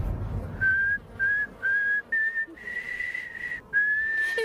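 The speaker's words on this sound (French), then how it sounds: "Quand il respire, il arrive à siffler au clair de la lune avec son nez." A cartoon character whistles the tune Au clair de la lune through his nose, a series of clear sustained notes in short phrases, close and alone.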